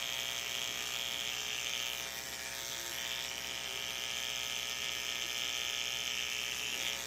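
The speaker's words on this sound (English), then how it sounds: "And then I end up just shaving it all off." Electric clippers shave a mule's mane, a steady close-up buzz that holds constant throughout with slight shifts in tone as the blade moves through the hair, and no talking.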